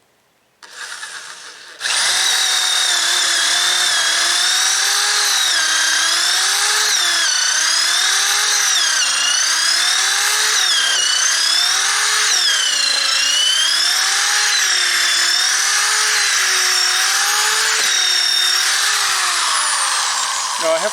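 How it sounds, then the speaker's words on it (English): A power drill with a short-fluted bit bores repeatedly into timber while building trusses for a disabled access ramp, a steady loud whine wavering in pitch as the bit is worked in and out, running continuously after a brief start. "I have to keep going in and out with the drill because the flute is only this long out."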